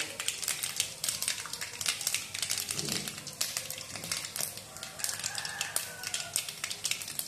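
Mustard seeds and split chickpeas crackling and popping in hot oil in a pan while vegetable noodles are being made, a steady dense spatter of sharp pops throughout, close and fairly loud.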